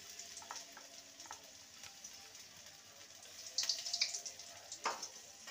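Ginger garlic paste frying in mustard oil in a wok, a soft steady sizzle with light stirring scrapes and a few brighter spatter bursts near the end.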